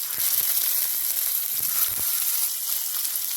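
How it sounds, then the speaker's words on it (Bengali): Hot oil sizzles steadily as pieces of pointed gourd fry in a pan, a constant bright crackle with a few soft knocks. "পটলগুলো ভাজার জন্য তেলটা গরম হয়ে গেছে, পটলগুলো দিয়ে দেবো"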